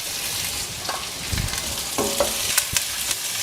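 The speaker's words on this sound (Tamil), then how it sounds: "அடுத்தது சின்ன வெங்காயம், அடுத்தது பூண்டு பற்கள் எல்லாத்தையும் நல்லா கலந்து விடலாங்க" Shallots, garlic and curry leaves stir-fry in a pan for a Tamil tomato kootu, giving a steady broad sizzle with a few spatula scrapes and clacks against the metal, close and continuous with no talking.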